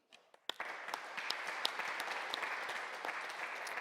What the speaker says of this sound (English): Please give a round of applause to all of the participants in this event.